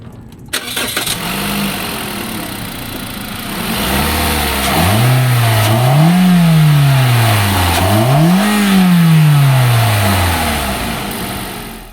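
A Toyota Voxy's 2.0-litre 3ZR-FAE engine cranks and catches, then settles into a close idle before two rising revs swell and fall back, loud and clear with no talk.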